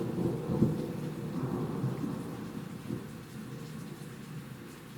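Hail and a thunderstorm in Cambridge, UK: a steady loud roar of rain and hail with deep rumbling thunder underneath, continuous and close, with no talking.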